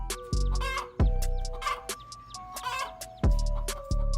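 A hen clucking while she defends her chicks from a snake: a run of loud, close clucks and squawks in repeated bursts, with sharp low thumps at intervals.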